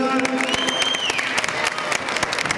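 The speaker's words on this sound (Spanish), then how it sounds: "Un aplauso grandote" Loud crowd applause at a live show in Chile filling the whole clip, dense and continuous, with cheering voices mixed in.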